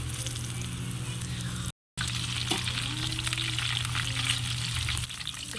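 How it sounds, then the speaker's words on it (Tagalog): Steady hissing sizzle of cream dory fish frying in hot oil, close and continuous, with a low hum underneath and a brief dropout. "iprito muna natin yung ating fish"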